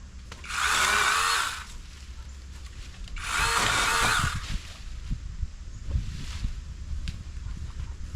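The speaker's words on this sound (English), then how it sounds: "this chainsaw is not a problem for it" Two loud bursts of a pole-mounted chainsaw cutting large hedge branches, each about a second long, followed by a fainter rev and some rustling.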